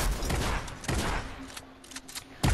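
Rapid bursts of gunfire in Fortnite, a close, dense volley of several shots in the first second followed by scattered sharper reports and a final loud crack.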